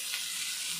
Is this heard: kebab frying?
yes